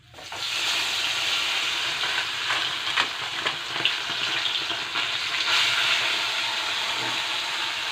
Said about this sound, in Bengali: দেখো কড়াইতে মাছ দিয়ে দিয়েছি এখন মাছটা ভেজে নেবো